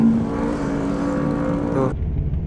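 A Yamaha MT25 motorcycle sweeps past on a road, its engine tone steady and loud, then cutting off abruptly; a rider's voice murmurs faintly underneath.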